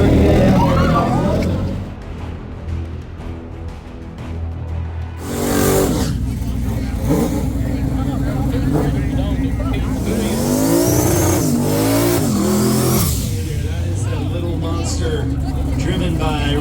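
A 1990 Ford Mustang drag car with a 6.0 engine launches at a drag strip during a True Street race. A loud engine roar climbs in pitch through the gears over a noisy crowd and background voices.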